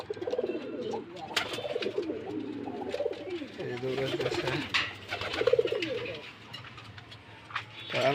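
A released pair of Rajgolla pigeons coo in soft repeated rolling calls close by, with someone talking over much of it.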